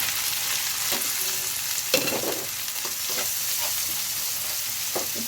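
Spices and tomato frying in a pan for a liver filling, a constant sizzle with a few sharp spatula scrapes and knocks spaced irregularly, close and free of talk.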